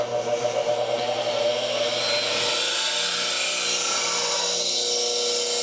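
Bench grinder sharpening a traditional wood turning gouge: a steady high whine with a gritty grinding hiss of steel against the wheel, continuous and close, with no talk.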